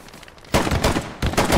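Gunfire from a Webley Mark 6 pistol in the World War II shooter Hell Let Loose, two loud, sharp bursts about two-thirds of a second apart, each ringing out briefly, close to the listener.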